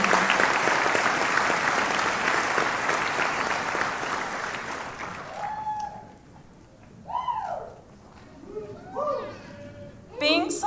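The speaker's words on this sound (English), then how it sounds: "Would we all give another round of applause to all of our graduates with our distinct honors?" Applause for graduates at the Clovis Community College 2018 commencement ceremony fills a large hall with dense, loud clapping that fades after about five seconds, followed by a speaker addressing the crowd.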